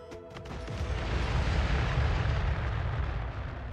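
A weapon fires in a video game, a loud, heavy blast that swells into a dense, rumbling roar. The roar holds steady for a few seconds with no voices.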